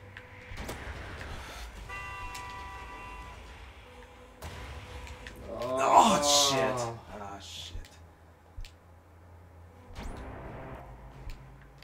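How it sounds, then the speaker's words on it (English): A low, droning horn-like blast from a truck swells up amid game sounds and engine noise in the video game Clustertruck, with people talking over it. "Why is that truck making like an inception noise?"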